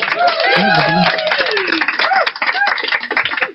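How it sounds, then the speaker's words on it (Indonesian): Close, dense clapping from a small group under overlapping chatter and light laughter, thinning out toward the end. "Oke, tepuk tangan."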